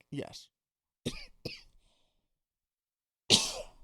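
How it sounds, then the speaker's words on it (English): Several close coughs in quick bursts, with a short spoken word among them and a harsher cough or sneeze at the end. "I hope you have a filter on me coughing there."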